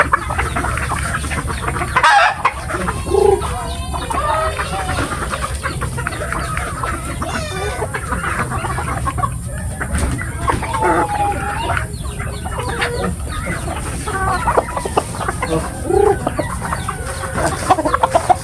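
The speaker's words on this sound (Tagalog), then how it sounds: "para mapakain yung mga manok" Chickens clucking steadily as they are fed, with mixed hens and young birds making busy, overlapping calls throughout and occasional louder squawks, close by and continuous.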